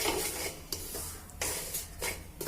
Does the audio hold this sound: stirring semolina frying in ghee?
yes